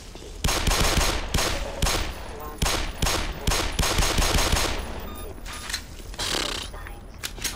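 Rapid bursts of weapon fire from the video game Black Mesa, a remake of Half-Life, hammer away in loud, dense volleys with brief gaps and mechanical clatter, close and continuous for several seconds.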